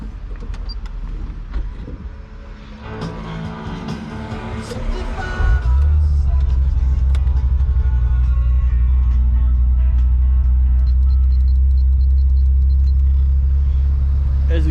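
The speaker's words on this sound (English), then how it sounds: "now we'll start it up" Ferrari F355 Berlinetta engine cranks and fires up, then settles into a loud, deep, steady rumble close by, with faint talk and cabin noise before the start.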